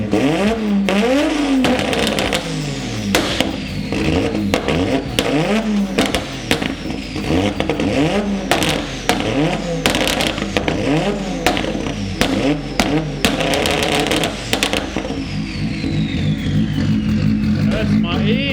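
A Nissan R32 GTR with an anti-lag tune revving hard, loud engine sweeps rising and falling with sharp crackling pops and bangs, while people talk over it.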